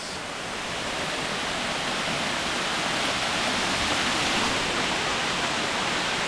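Water pours steadily down a small waterfall near Santa Ana, El Salvador, a close and loud broadband rush that holds constant with no voices over it.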